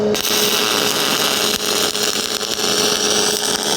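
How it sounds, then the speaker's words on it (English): A MIG welder runs a tie-in bead, a steady close crackling buzz with fine sputtering, continuous and fairly loud with no talk over it. "I'm just letting the weld build up."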